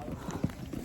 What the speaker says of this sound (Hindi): बहुत घोड़ा जा रहा है